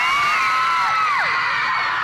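At an outdoor Christmas light switch-on, a large crowd screams and cheers loudly and continuously, with high shrieks rising and falling across the whole stretch.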